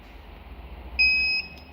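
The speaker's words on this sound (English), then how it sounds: "we do not release it until we hear a sound from the buzzer" A single steady electronic buzzer beep from a car immobiliser, loud and close, lasting under half a second over a low background hum.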